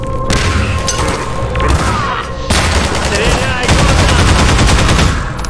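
Loud, continuous automatic gunfire in Half-Life 2, with rapid rattling bursts and heavy booming impacts during a fight against striders.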